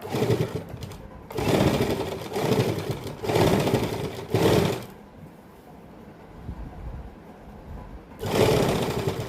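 A sewing machine stitches a salwar hem in rapid whirring bursts, four quick runs, a pause, then another run starting near the end, close and clear.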